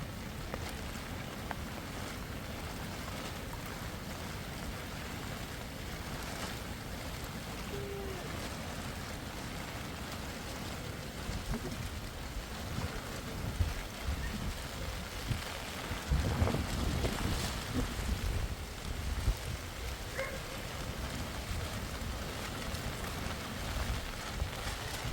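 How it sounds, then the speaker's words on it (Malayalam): Floodwater from an overflowing stream rushes continuously beside a house, a steady broadband roar with no voices, swelling slightly louder in the middle. "അടിമാലത്തോട് കര കവിഞ്ഞൊഴുകിയതാണ്"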